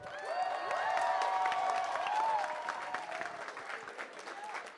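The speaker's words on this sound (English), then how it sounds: "So can I get a cheer for the Blue Alliance?" An audience at a FIRST Tech Challenge robotics competition claps and cheers for the Blue Alliance, dense sustained applause with shouts and whistles that stays loud and then eases slightly.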